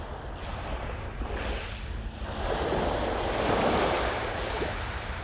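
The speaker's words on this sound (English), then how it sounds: "there it is, the so-called secret beach." Waves wash steadily onto the shore of a secluded beach in Toronto, a continuous surf roar mixed with wind noise on the microphone, with no talk.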